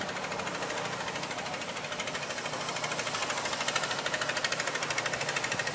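A hand tiller's small engine runs steadily and close by, a loud rattling, knocking drone with a fast pulsing beat that grows slightly stronger toward the end.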